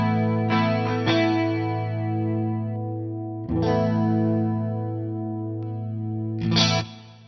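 Eventide Rose delay and modulation pedal with its filter engaged, processing sustained tones that bloom with each new attack about every three seconds, a chorus-like shimmering wash that echoes and fades between hits.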